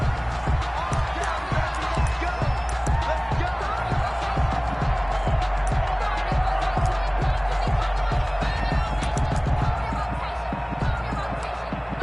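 Stadium crowd at a video game football match between Washington and Dallas, a dense steady roar of cheering with rhythmic thumping, loud and continuous throughout.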